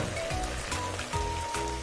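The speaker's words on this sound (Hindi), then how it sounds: "अब हम इसमें पानी डालेंगे।" Water poured into a pan of roasting rice and spices for khichdi pulao, a steady close splashing stream that lasts the whole moment at moderate level with no talk.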